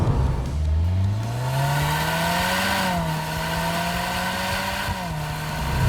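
A 2022 Subaru WRX with a CVT accelerates hard from a launch. The loud, close engine note climbs steadily, then dips in brief stepped drops before pulling on.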